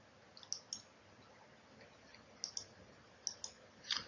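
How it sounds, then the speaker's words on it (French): Small plastic clicks and snaps come from a Renault 5 TX speedometer visor being pressed onto a modified plastic housing, heard in a few short, faint clusters against near silence. "Remettre la visière de compteur sur le corps modifié."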